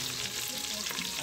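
Mustard seeds and green chili sizzle in hot oil for a dal tempering, a steady dense crackle of frying that holds evenly and fairly close throughout, with no talk over it.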